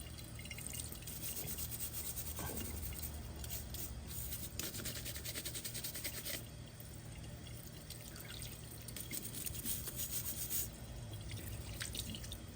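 A brass brush scrubs caked-on grease off the igniter of a Wolf stove, making a close, steady scratchy rasp with soft brushing strokes and small taps throughout, with no speech.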